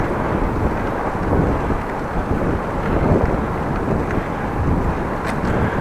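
A headwind on a long bike ride through the Groningen countryside buffets the microphone with constant, loud, rumbling gusts that swell and ease throughout, with no talking.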